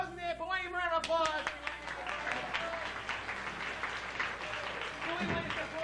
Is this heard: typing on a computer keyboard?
no